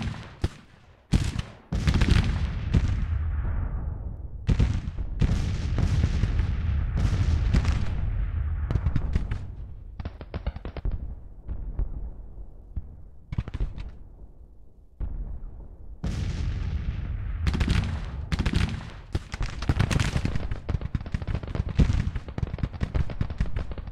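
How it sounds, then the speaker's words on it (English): Cannon and artillery volleys from a Grand Tactician Civil War battle, a long run of loud, repeated booming blasts with brief lulls between salvos, heard alone without talk. "what cannons are they using?"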